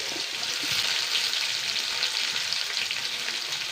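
Mustard seeds and small garlic cloves fry in hot coconut oil in a pan, making a steady, close, dense sizzle with light popping that runs unbroken and alone.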